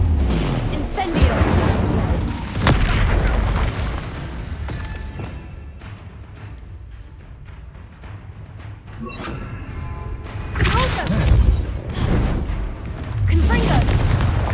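Incendio and Confringo spells in Hogwarts Legacy burst as loud, deep booms and crashing blasts, coming in quick succession with a rumbling fiery roar between hits.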